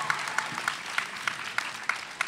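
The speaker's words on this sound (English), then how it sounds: "Come on, give them more noise for that, more applause." An audience at a Grade 11/12 spoken word competition claps in a steady, even rhythm, with crisp claps about three per second. The clapping is moderately distant and there is no talking over it.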